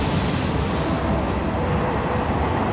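A moving passenger train on a morning run from Bangalore toward Nandi Hills station makes a dense, steady roar of wheels and carriage rumble filling the whole moment, loud and unbroken with no voices.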